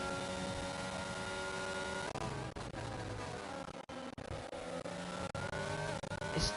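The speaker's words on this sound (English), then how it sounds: "The engine sound is a bit glitchy." Race car engine in the F1 22 video game at the Austrian Grand Prix, a steady high-pitched whine that holds loud and continuous throughout, with brief dropouts that sound glitchy.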